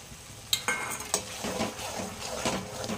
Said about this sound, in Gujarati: જ્યાં લગી આપણું તેલ છૂટું ન પડે ત્યાં સુધી આપણે તેને સાતરી લેશું